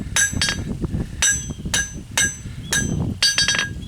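Metal spoon hammered flat, about seven sharp ringing strikes, some in quick pairs, close and loud with a bright metallic clang on each blow.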